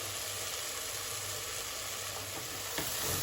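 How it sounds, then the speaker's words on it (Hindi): Dal and spinach sauté in a pan with turmeric and salt, giving a steady, even sizzle throughout with a faint stir or scrape near the end; no one talks. "पालक को भी थोड़ा सा भून लेते हैं दाल के साथ में"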